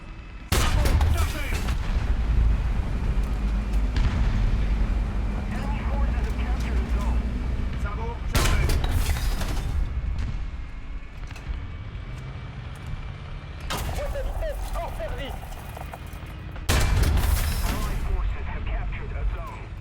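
Tank cannon fire in War Thunder from an AMX-40 French main battle tank, heavy booming blasts repeating every few seconds over a loud continuous engine rumble, with someone talking over the game.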